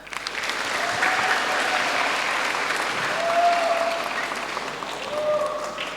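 An audience at a live spiritual class session gives sustained, even applause that swells gently and stays steady, with faint tones and voices in the background.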